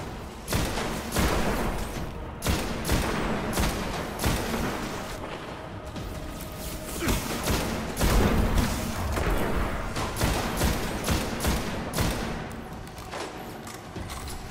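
Gunfire in the video game Destiny: loud, rapid bursts of shots and booming impacts repeat steadily over about fifteen seconds, with little or no talking.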